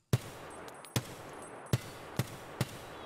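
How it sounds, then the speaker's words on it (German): Five single SR-25 rifle shots fired at long range in Escape from Tarkov crack out one at a time, sharp and fairly loud, spaced roughly half a second to a second apart with quiet between. "wir schießen jetzt einmal auf lange Entfernung"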